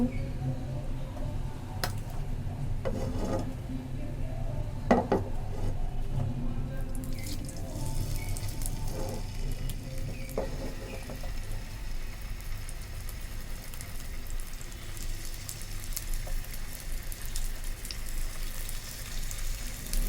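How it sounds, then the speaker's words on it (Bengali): Tatkini fish fry in a pan with a steady, soft crackling sizzle throughout, a few brief drips and taps early on, the hiss brightening midway and staying even to the end, no talk. "আমার হাতের কাছে যে মাছ ছিল সেই মাছগুলোই আমি ভাজি করছি।"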